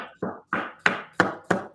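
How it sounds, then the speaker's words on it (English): A knife chops food into thin slices on a cutting board, five sharp close strikes at a steady, unhurried rhythm with short pauses between them. "chopping these up real thin"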